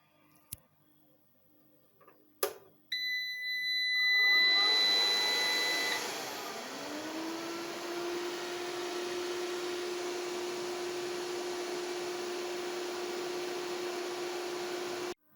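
EASun ISolar SPS 3kW solar inverter powering up after reassembly: a few clicks and a beep, then a fan spins up into a steady whir with a high tonal whine, continuing alone at moderate level.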